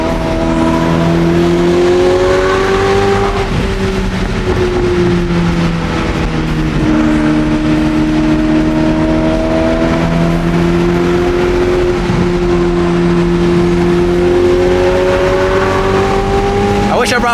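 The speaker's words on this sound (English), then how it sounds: "The downshifts are crazy." A Ferrari engine droning loudly with repeated rises and drops in pitch through gear changes over a long, steady stretch, heard close with people talking over it.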